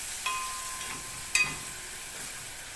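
Onion and cumin sautéing in a pan give a faint, steady sizzle with a couple of light clinks from stirring, close and quiet without speech.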